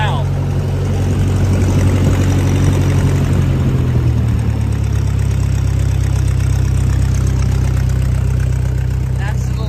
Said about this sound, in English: That's the little tractor just idling